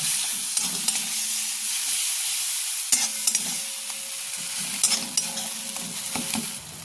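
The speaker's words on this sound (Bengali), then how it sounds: "এবার আমি মশলা বাটাটা দিয়ে দেবো। দিয়ে একটু কষবো।" Sustained sizzling of ground spice paste frying in a pan for a rohu fish curry, punctuated by scraping stirs and clinks of a spoon, close and steady with no voices.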